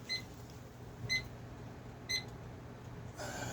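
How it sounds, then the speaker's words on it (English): Three short, faint electronic beeps about a second apart, with quiet room noise in between. "That's my alarm."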